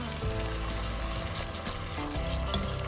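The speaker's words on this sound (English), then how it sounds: "So just be a little bit patient for it browning off" Ground beef browning in a frying pan for British-style chilli con carne, a steady close sizzle and crackle with faint stirring underneath, holding at an even level throughout.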